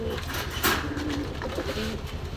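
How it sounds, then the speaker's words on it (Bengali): Domestic deshi pigeons coo close by at a pigeon sale in Khulna's Gollamari, low rolling calls repeating steadily against a constant murmur of background noise. "দর্শক, এক জোড়া দেশি কবুতর, মাক্সি কবুতর, খুব সুন্দর কবুতর"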